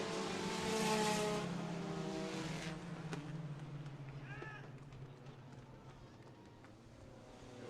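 Outlaw late model race cars roar down a dirt track backstretch, a loud engine drone that swells and fades as they pass, while an announcer's voice carries over the noise.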